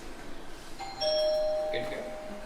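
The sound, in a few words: doorbell ringing at a new house front door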